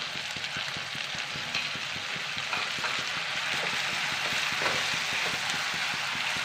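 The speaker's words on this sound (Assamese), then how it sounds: "পিঁয়াজখিনিও ধুনীয়াকৈ ৰঙচুৱা কালাৰ অহালৈকে ভাজিব লাগিব।" Onion paste frying in oil gives a steady, close sizzle with a busy texture of small pops and crackles, holding an even loudness throughout.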